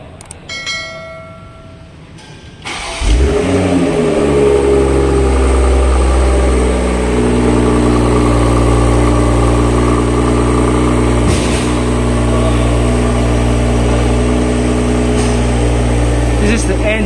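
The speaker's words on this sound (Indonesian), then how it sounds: "This is the engine sound of Toyota Supra GR." A 2021 Toyota GR Supra engine cranks and fires up after a short quiet moment, then settles into a loud, steady idle that drones on close by.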